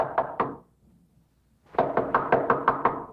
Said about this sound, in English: I heard this knock at the door